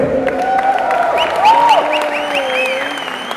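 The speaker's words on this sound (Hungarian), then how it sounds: "Egy nagy tapsot kérünk!" Loud, steady applause fills an MMA event hall in Hungary, with crowd noise and cheering whistles rising through it, while an announcer's amplified voice carries over the top.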